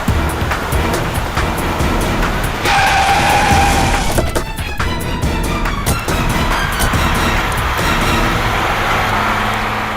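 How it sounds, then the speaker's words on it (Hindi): A car speeds off with skidding, squealing tires over steady loud engine and road noise, from a crime drama chase scene. "ये नेहा तो गाड़ी भगाने लगी।"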